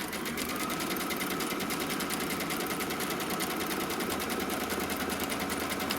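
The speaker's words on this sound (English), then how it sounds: "So it's going to stitch off the placement line for both batting" An embroidery machine stitches the batting placement line on a quilt block, a steady rapid mechanical whirr with fast even needle strokes, close and continuous with no talking.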